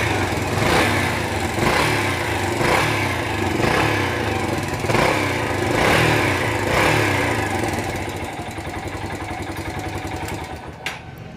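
Yamaha YBR motorcycle with an electrical misfire problem, its single engine running in a loud, rhythmic throb with regular pulsing surges before settling lower near the end.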